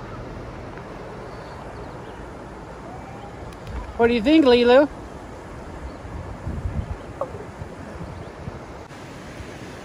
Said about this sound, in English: the creek kind of dumping into this little reservoir here